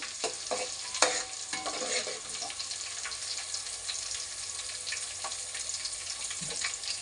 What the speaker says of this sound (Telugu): నూనె బాగా అన్నీ పచ్చిమిర్చి కరివేపాకు ఆవాలు అన్నీ బాగా వేగిన తర్వాత మనం చేప ముక్కలు వేసుకోవాలండి దీంట్లో